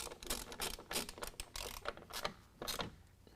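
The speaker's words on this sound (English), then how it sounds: "now using a 13mm, we're going to tighten up our 2 bolts holding our board to our bracket" A 13mm ratchet tightens two bolts fastening an Ionic 41 Series running board to its bracket on a 2019 Ram 1500, giving a quick, close run of uneven clicking bursts with brief pauses between strokes.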